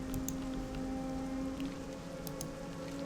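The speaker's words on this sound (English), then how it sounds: "You get that rain sound." Steady soft rain ambience in the World of Warcraft video game, a continuous gentle patter with a sustained low musical drone and a few faint high chimes.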